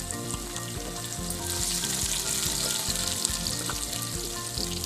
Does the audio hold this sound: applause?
no